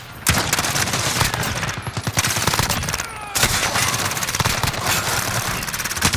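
Rapid automatic gunfire in Call of Duty, loud and close, with the CX-9 submachine gun among the weapons, rattling in long continuous bursts broken by brief pauses, over a steady background of game noise.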